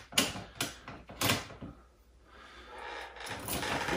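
A lock cylinder is pushed into a door lock, giving two sharp metallic clicks followed by a short soft scrape, heard up close with no talking.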